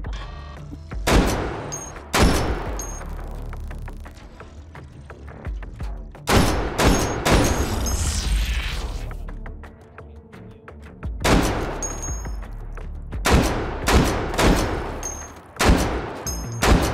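Loud, close gunfire in the VR shooter H3VR, with sharp single shots and rapid bursts spread over the stretch, plus mechanical clacks of weapon handling between volleys.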